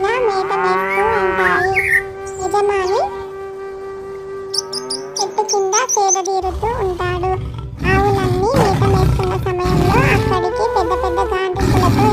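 A tiger's roar rendered as a sound effect in an animated children's story about a cow and a tiger, loud deep growling cries rising over a steady musical backing.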